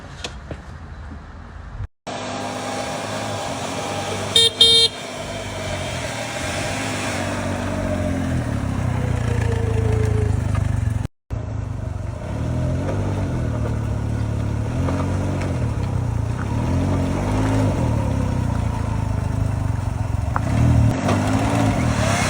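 A rented sports car engine runs close by in a continuous mid-pitched drone, with repeated revving surges over about twenty seconds; no horns stand out.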